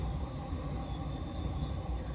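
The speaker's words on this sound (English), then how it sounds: "Sorry, train." A train rumbles steadily past close by, a dense, continuous low roar of wheels and cars with a faint high metallic whine above it, loud and unbroken throughout with no voices.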